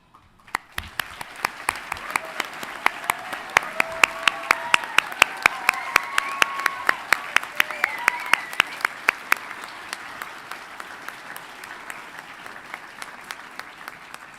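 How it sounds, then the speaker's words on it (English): A large audience at a College of Veterinary Medicine and Biomedical Sciences commencement ceremony applauds faculty and staff, steady dense clapping that swells and then fades over about fourteen seconds. "Will faculty and staff please stand so we can give you a round of applause"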